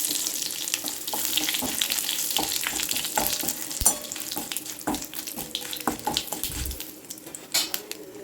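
Curry leaves hit hot oil in a pan and sizzle and crackle in sharp, irregular pops, with a scraping stir partway through, close and loud and with no talk.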